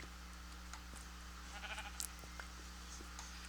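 A Minecraft sheep gives one short, wavering bleat, faint over a steady low electronic hum, with a few small clicks around it.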